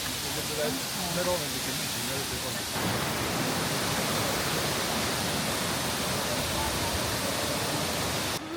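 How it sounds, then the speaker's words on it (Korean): Waterfall at Plitvice Lakes pouring with a steady, loud broadband rush that fills the whole stretch, with a few voices briefly audible near the start. "이 폭포는 뭔가 좀 멋있네요."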